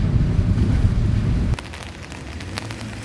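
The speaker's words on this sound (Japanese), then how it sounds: "今日は大雨。" Heavy typhoon rain falling on a tiny house built on the bed of a kei truck, parked for the night: a loud, dense roar of downpour that drops sharply to a quieter patter with scattered drops partway through.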